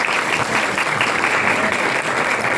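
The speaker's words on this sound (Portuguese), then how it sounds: "Por favor, uma salva de palmas." Steady applause from a conference audience at an opening session before a lecture, dense clapping throughout, fairly loud and close, with no talking.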